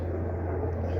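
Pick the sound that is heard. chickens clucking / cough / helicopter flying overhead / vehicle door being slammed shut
helicopter flying overhead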